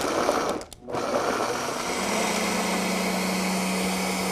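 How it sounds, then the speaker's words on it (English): A blender whirs through basil pesto with garlic, sea salt and olive oil, running as a steady mid-level motor drone after a brief dip near the start. "And then we're going to pulse that."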